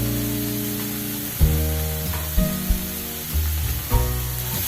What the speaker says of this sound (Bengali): সব নাড়াচাড়া করে দিচ্ছি